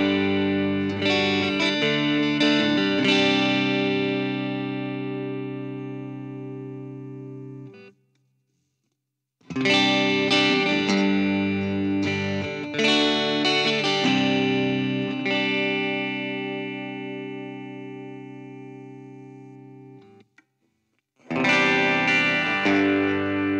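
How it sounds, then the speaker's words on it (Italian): EART T380 electric guitar played through a processed, effected tone with chorus and distortion, strummed chords ringing out in phrases separated by short pauses, close and loud with no voice. "Vi faccio sentire tutti e sei i suoni perché ha il selettore a tre posizioni, ma anche lo split, quindi con i single coil"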